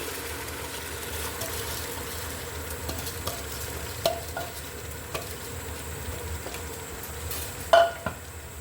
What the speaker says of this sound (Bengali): ধোয়া চালগুলো আমি দিয়ে দিচ্ছি